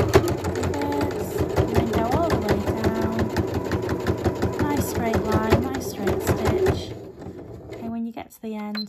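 Sewing machine stitching a fabric face mask in a straight line, running steadily and close for about seven seconds before stopping, followed by brief handling sounds.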